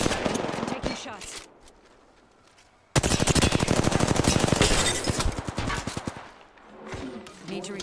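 Rapid automatic gunfire in the video game Apex Legends, a dense burst that pauses and then resumes in long sustained volleys, loud and close.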